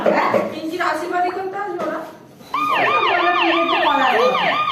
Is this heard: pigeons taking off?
no